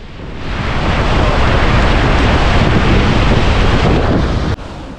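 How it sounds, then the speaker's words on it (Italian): Dettifoss, Iceland's powerful waterfall, roars as a loud, steady broadband rush of falling water, close and continuous, with wind buffeting the microphone and a brief dip near the end. "Dettifoss è la maggiore cascata d'Europa"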